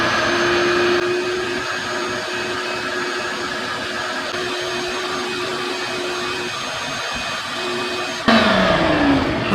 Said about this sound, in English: Right now we're going to do a quick vacuum job